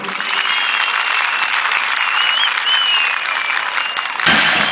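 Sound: applause for the prime minister

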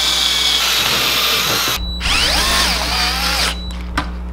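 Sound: power drill pre-drilling sheet metal with multi-purpose bit

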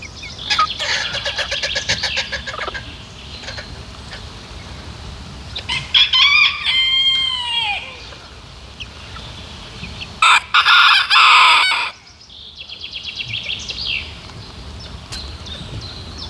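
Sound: roosters crowing on a farm

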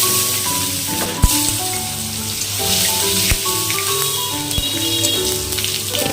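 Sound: dried chillies, bay leaves, cumin and radhuni sizzling in hot oil

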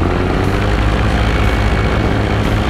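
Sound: paramotor engine throttling up for taxi and takeoff

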